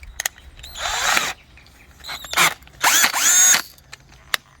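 A power drill spins a bolt-chucked Traxxas Spec Slash 2WD RC tire in three separate bursts of whirring, each rising and falling as the trigger is squeezed and released, with short clicks between.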